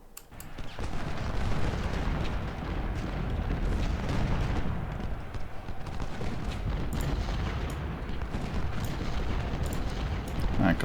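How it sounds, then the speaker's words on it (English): Civil War cannon artillery firing during the South Mountain battle in Ultimate General Civil War, a continuous rumbling roar of distant booms and blasts rolling on without pause at moderate loudness. "Cannons fire on Evans."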